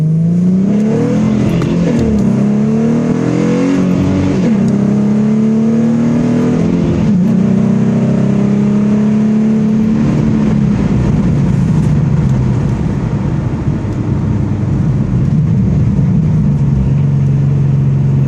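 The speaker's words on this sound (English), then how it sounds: "Plus with my exhaust, sounds awesome." A 2011 Ford Mustang 3.7L V6 with a manual swap and aftermarket exhaust accelerates hard from inside the car, engine note climbing through the revs and shifting gears in a loud, continuous drone.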